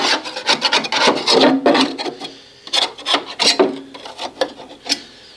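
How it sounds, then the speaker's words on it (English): A flexible putty knife scrapes caked old grass from under a lawn mower deck in short, rough, rasping strokes, close and irregular, with brief gaps between scrapes. "So I'm just going to scrape this. Just get the big chunks off."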